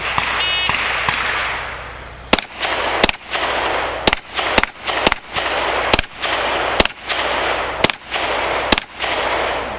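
Handgun shots ring out at an outdoor shooting range, a run of about ten sharp, loud reports at irregular intervals over steady wind noise, with no talking.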